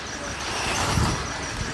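RC mod buggies racing around a track, a steady high motor whine with a few louder passes, partly mixed with an announcer's voice.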